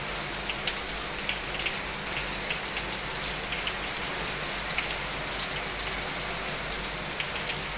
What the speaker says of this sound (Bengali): ভালো জোরেই বৃষ্টি নেমেছে,